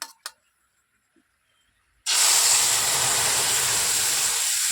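Spice paste hitting hot oil in a village kitchen for a fish fry, a sudden loud sizzle bursting in after a near-silent pause and hissing steadily on.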